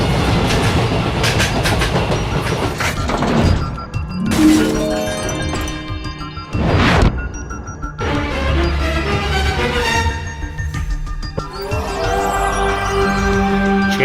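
An animated train rolls loudly along rails with steady clickety-clack and metallic rumble, briefly swelling and cutting between shots, heard alone without voices.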